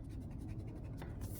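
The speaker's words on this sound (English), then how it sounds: "let me just erase this one" Pencil eraser rubbing back and forth across paper on a drawing, a steady close scratchy scrubbing with no talk.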